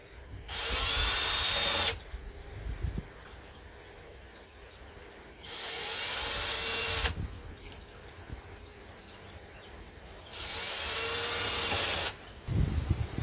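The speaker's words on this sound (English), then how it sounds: "Get your drill and drill the holes." A power drill whines in three separate bursts, each lasting about two seconds, with quiet pauses and small clicks in between.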